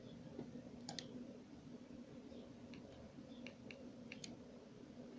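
A computer mouse gives several faint, sharp clicks, single and in quick pairs, spread over quiet room tone.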